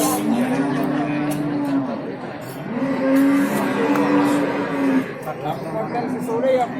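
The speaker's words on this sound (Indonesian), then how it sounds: "Untuk hari ini sapi PO doro yang pol bagus ya depan saya ini." Several long, low moos from a pregnant PO cow, one after another with short gaps, close by over a steady outdoor background hum at a livestock market in Jatirogo, East Java.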